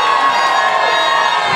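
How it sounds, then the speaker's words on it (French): Crowd at a street march cheering and shouting for marchers led by healthcare workers, a dense sustained roar of voices with whoops throughout. "Rendez-leur hommage, acclamez-les"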